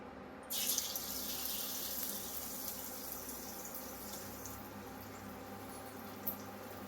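Onion fritter batter sizzling steadily in hot refined soybean oil, a continuous close hiss and crackle that begins abruptly and carries on without pause.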